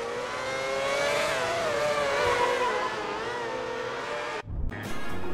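Racing car engine from the F1 2010 video game, a loud sustained high-pitched whine that shifts in pitch across the run, cutting out briefly near the end before resuming.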